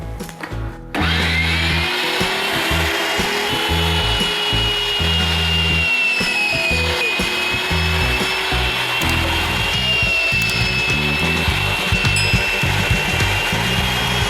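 Electric meat grinder mincing chunks of pork fat (salo), a loud continuous motor whine that starts abruptly after a second and grinds on steadily at close range, with uneven churning as the fat feeds through.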